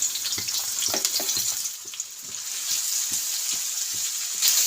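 Chopped onions fry in a little oil in a kadhai over a gas flame, a steady, bright sizzle punctuated by soft, rhythmic stirring taps throughout.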